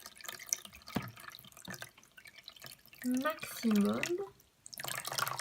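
Water being poured into the tank of a Cat Mate pet water fountain, a steady trickle and drip near the microphone, with a person speaking over part of it.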